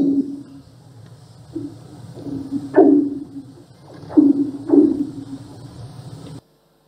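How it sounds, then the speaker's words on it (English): Ice singing on a frozen lake in Minnesota, a series of eerie low pulsing tones and short resonant swoops over a soft rumbling background, with three or four louder chirping twangs. "This is ice singing."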